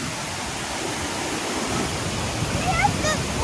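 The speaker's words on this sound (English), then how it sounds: "I wanted to swim down there, but we can't because how rough the water is." Rough, flooded waterfall roaring with rushing water, a loud steady broadband wash close by that swells slightly toward the end, with faint voices underneath.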